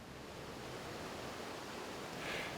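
Dunloop Creek in Fayette County, West Virginia, flows in a steady broadband rush, faint and distant, a soft continuous wash with no voices.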